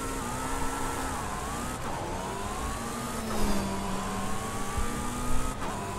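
A BMW car accelerating in the racing game Forza Horizon 5, a continuous engine whine climbing in pitch with short dips at gear shifts, loud and steady, with no talk.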